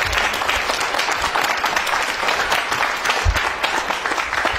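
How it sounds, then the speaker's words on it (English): A senior care team at a hospital is applauded, and a steady, dense round of clapping carries on without a break from start to finish. "the team here deserves a big round of applause in this senior team"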